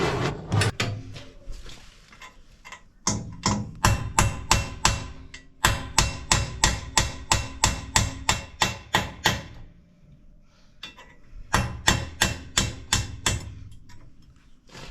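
Hammer tapping out heated rivets on a tractor quick hitch for a 7520, a steady run of sharp metallic strikes in quick bursts with short pauses between groups, close and loud, no talking.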